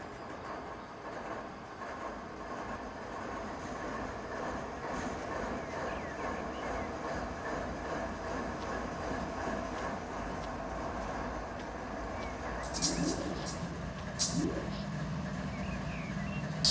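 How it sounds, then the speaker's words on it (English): In the Run8 Train Simulator game, locomotives are auto-started together, producing a continuous low diesel engine rumble and idle drone, with a couple of brief higher-pitched hiss or squeal bursts toward the end. "let's go ahead and auto start all locomotives, and I'll stay out here for it so you can hear this beautiful sound"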